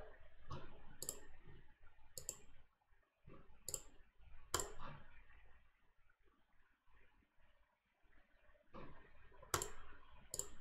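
Computer keyboard and mouse clicks while typing numbers into a running program, a close series of sharp clicks and taps in uneven bursts with short pauses between them.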